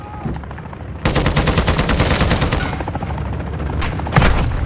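Rapid bursts of gunfire in a Call of Duty DMZ match, loud and close, starting after a quieter opening second and running nearly continuously with dense repeated shots and a sharper blast near the end.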